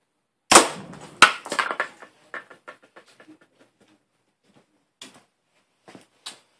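A PSE Omen bow shot sends an arrow into a shoulder blade: a sharp, loud impact crack, a second hard knock a moment later, then a scatter of small ticks and faint rattles trailing off, with a few light knocks near the end.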